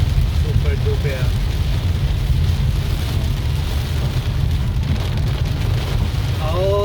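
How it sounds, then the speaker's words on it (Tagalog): Heavy rain pours down continuously in the Philippines near a cockfighting arena in Bulacan, a dense, loud hiss with a low rumble underneath, and faint voices and animal sounds briefly poke through. "Ang lakas ng ulan"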